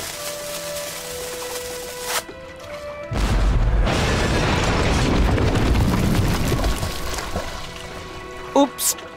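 In the Jack Keane 2 game, a cannon fires with a sudden heavy boom followed by a long rumbling, gushing roar, after quieter ambient tones and with a few sharp clanks near the end; a voice speaks over it.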